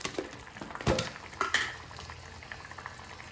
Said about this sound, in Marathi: आता छान उकळी येईपर्यंत ह्याला असंच सोडून द्यायचं आहे